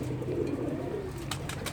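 Pet pigeons cooing softly in a loft, a continuous low throaty burble close by, with a few faint higher rustles or clicks near the end and no talking.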